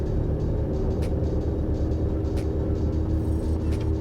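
Cessna light aircraft engine at full power during a takeoff roll, a loud steady droning roar filling the cabin with no break.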